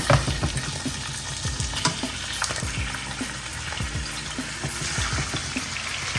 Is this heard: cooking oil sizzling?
yes